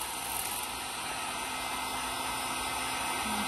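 A heat gun blows steadily on chrome trim being fitted to a car bumper in a garage, producing a continuous loud whooshing hiss with no break across the short span.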